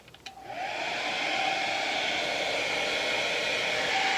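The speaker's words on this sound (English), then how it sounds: "Then take a hair dryer" A hair dryer switches on after a few faint clicks and blows steadily with a loud, even whooshing hum and a high whine.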